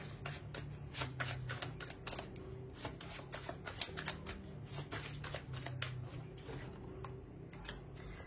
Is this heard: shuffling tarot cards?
yes